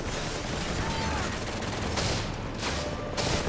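Dense, continuous gunfire and explosions from a Modern Warfare 3 Spec Ops mission, steady and loud throughout with brighter bursts of shots near the end.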